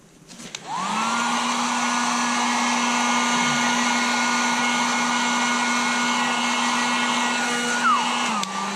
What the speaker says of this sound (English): The heat gun I just laid in my lap is burning me.